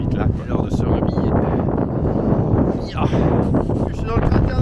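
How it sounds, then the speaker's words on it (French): Strong wind on Deception Island, Antarctica, inside a volcanic crater, buffets the microphone with loud, gusty low rumbling that surges and dips throughout. "Enfin, il y a beaucoup de vent."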